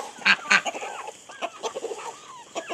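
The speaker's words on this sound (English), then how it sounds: "Come on, chickens." Chickens in a backyard pen cluck and murmur nearby, with a couple of louder squawks early on followed by scattered softer clucks in an irregular rhythm, no talk over them.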